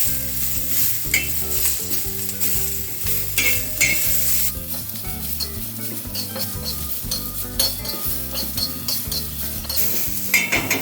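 Chopped onion roasting and being stirred in a pan for misal, with steady sizzling and repeated scraping strokes of a spatula against the metal, loud and close throughout, no talking.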